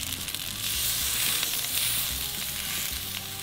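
Mahi mahi fillets sear in oil on a high-heat Blackstone griddle, giving a loud, steady crackling sizzle that stays close and constant throughout, with no talking.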